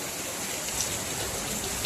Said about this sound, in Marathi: जोरदार जबरदस्त पाऊस लागतोय दणक्यात